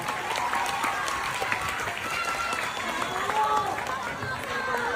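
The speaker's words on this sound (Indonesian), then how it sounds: "Berikan tepuk tangan." Audience at a public event applauding as a guest stands, a broad, steady wash of clapping with murmuring crowd voices and faint talk underneath.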